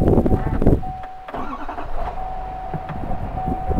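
GMC Denali L5P diesel pickup truck engine cranking and firing back up, a loud burst of starter and engine noise settling into a steady idle with a chime tone, close by.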